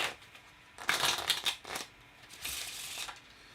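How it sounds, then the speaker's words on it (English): A deck of cards is shuffled up close in a few quick riffling bursts, with soft rustling between them. "And we just mix it on up. And give it a shuffle."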